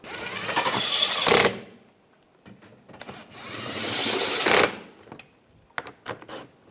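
Screws being driven into the active grille shutter of a 2013-2016 Dodge Dart, heard as two sustained whirring bursts with a high whine from a power driver, each lasting over a second, followed by a few short clicks and taps.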